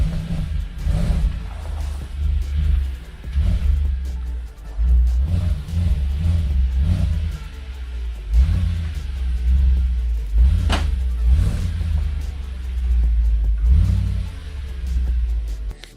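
A cheap, oil-burning Audi S5 engine left running, giving a low, steady rumble close by with gentle surges in level and one brief clunk partway through.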